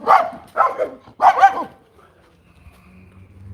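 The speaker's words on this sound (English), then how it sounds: "It gets old when you are barking like that all the time." A dog barks indoors in three loud, close bursts in quick succession, followed by quiet low rumbling with no talking.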